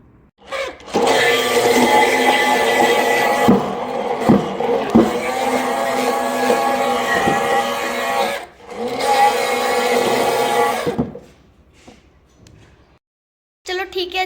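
Electric mixer-grinder blender running on milk and sugar, a loud steady whir from about one second to eleven, dropping briefly near eight and a half seconds, then falling silent before a brief restart at the end.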